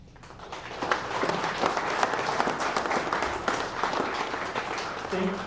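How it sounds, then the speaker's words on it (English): Loud, sustained applause from an audience at a governor's bill-signing event on suppressor deregulation, dense clapping swelling and holding steady throughout with murmurs mixed in. "I think we should just give him another huge round of applause"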